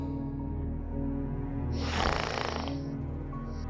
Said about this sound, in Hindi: या मेरे मालिक, ये तो खर्राटे लेता है।